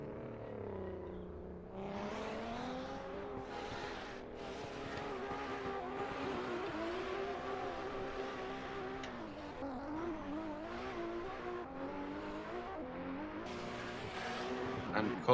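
Drift car tyres screeching and sliding through a competition run, a sustained loud wavering squeal with engine roar running the whole way, the car near and continuous.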